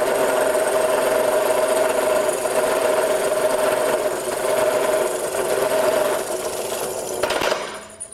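A Ring Master machine cutter slices rings out of wood for picture frames, giving a steady, loud grinding whir with a constant tonal hum throughout that fades slightly near the end.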